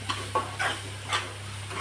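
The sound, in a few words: roasting and stirring masala in oil in a pan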